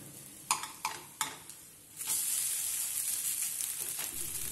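A masala dosa hits a hot pan with a few quick clinks and scrapes as it is flipped, then a steady, close sizzle of frying takes over and holds to the end.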